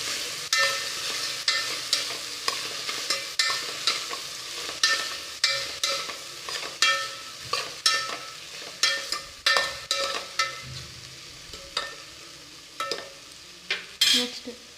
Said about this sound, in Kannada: ಇದನ್ನು ಫ್ರೈ ಮಾಡೋಣ.